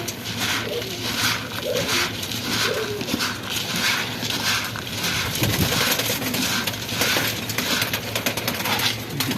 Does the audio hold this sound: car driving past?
no